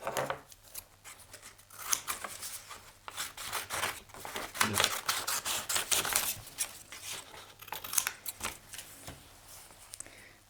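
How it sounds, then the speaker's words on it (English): Rapid crisp snipping and rustling of scissors through paper, close up, continuing steadily with irregular short cuts. "I'm just going to cut it with a pair of scissors."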